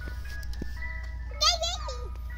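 A faint electronic jingle melody plays briefly over steady background hum, sounding distant like a passing ice cream truck.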